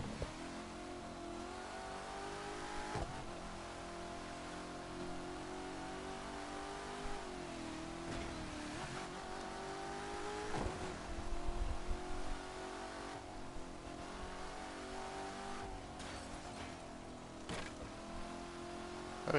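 A car engine revving in The Crew 2 racing video game, a sustained mid-pitched drone that rises and falls as the throttle changes, with a few sharper surges, steady and alone without voices.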